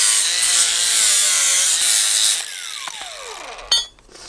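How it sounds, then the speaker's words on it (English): A power grinder works metal on the chassis of a VVL-swapped Nissan S13, a steady high whine for over two seconds, then spinning down in a falling pitch with a sharp clack near the end. "Now I gotta grind that down."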